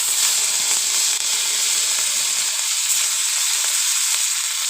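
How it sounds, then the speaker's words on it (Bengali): Fish fries in a smoking-hot wok in a village kitchen, a bright, even hiss of sizzling oil that stays loud and close for the whole stretch, with no voices. "মাছগুলো ভাজবো, কড়াই বসিয়ে দিয়েছি, ধোঁয়া উঠে গেছে কড়াইতে।"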